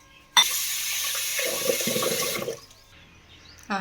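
Tap water gushes into a vessel where broken parboiled rice and black urad dal are being washed, a loud rushing pour with grains and water sloshing as it slows, then stops before a brief final splash.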